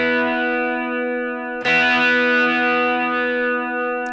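Guitar played through a Danelectro pedal's spinning-speaker effect with the speed turned up, a sustained chord swirling steadily, then a fresh strum about midway that rings on with warbling modulation, loud and close, no talk.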